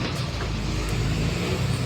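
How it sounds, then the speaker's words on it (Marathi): A bus arriving on a village route runs its engine in a steady, loud low rumble that fills the short stretch without a break, with no talk over it. "अजून एक बस आली."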